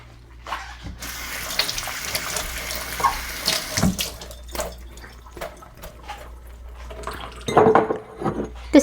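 Hot tap water runs steadily into a kitchen sink while a glass jar is scrubbed clean with soapy water, with clinks of glass and splashing bursts near the end.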